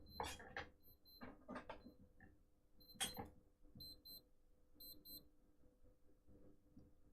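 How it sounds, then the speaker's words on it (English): A wristwatch alarm beeps in short high double pips, repeating in small clusters, faint under intermittent bursts of nearby noise and handling sounds. "This is the watch that beeped"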